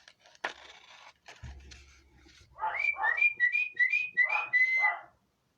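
Rustling and a thud, then a series of short, rising whistle blasts repeated rhythmically to call a dog, fairly close, in otherwise quiet surroundings.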